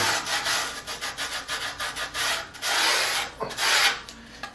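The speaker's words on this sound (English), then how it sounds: "you can kind of sand off those little rough edges" Sandpaper rubbed by hand over the rough edges of a wooden piece, a close, dry rasping in quick repeated strokes with a few longer, louder passes, no talking.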